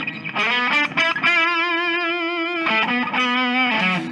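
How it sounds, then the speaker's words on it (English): Electric guitar played through a blended fuzz and distortion pedal, saturated sustained notes and a few short picked phrases with thick, buzzy harmonics, loud and alone without talking. "I kind of like that blend between the fuzz and distortion."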